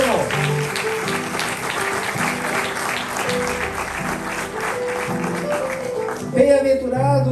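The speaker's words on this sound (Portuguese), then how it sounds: "Glorifique o Senhor com suas palmas." Congregation clapping during a church service, a steady wash of applause under continuous music with a sustained bass line, loud and close throughout, ending with a brief louder burst.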